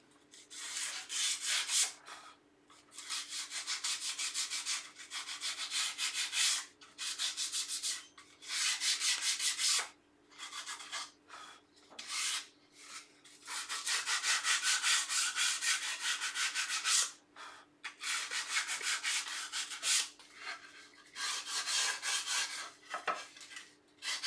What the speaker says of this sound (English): I just want to sand the furry bits off that.